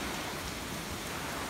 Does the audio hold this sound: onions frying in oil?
no